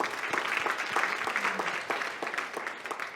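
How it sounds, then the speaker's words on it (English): A workshop audience claps for a few seconds, a dense patter of many hands at moderate volume with no talking over it. "Let's give her a round of applause."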